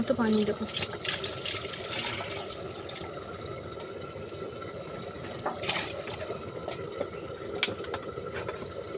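Water poured into a pot of mutton curry mixed with potatoes, a steady splashing flow lasting several seconds close by, with a faint voice in the background.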